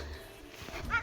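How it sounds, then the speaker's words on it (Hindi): A dog barking near a house, faint and brief, a single bark rising at the end of a short stretch of quiet outdoor background noise. "उनका कुत्ता भौंक रहा।"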